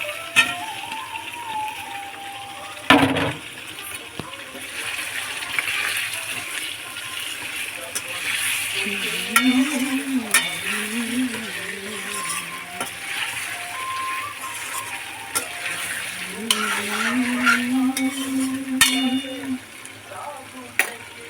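Boiled potatoes and boiled gathi hiss and crackle in a pan as they are stir-fried, with spoon scrapes and a bump, while someone talks over the cooking.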